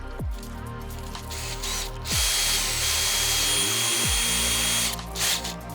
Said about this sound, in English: So now we'll drill our second hole.